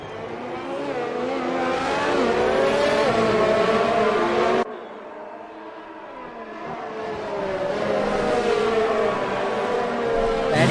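Formula 1 racing cars in F1 2019 at the Italian GP: steady high-pitched engine whine with rising and falling revs throughout, dipping briefly near the middle before building again, loud and continuous with no talk.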